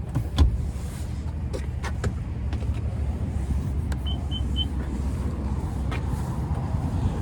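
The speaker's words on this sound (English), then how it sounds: "you can power fold the 2nd row, or the 3rd row from here, one touch" Power-folding second- and third-row seats in a 2026 Nissan Armada NISMO give off a steady low electric motor hum inside the cabin, broken by several faint clicks and latch taps.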